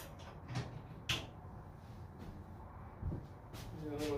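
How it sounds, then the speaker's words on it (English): A few soft thuds as the door of a Masterbuilt smoker is shut, faint and close by, with quiet handling clicks around them. "close the door,"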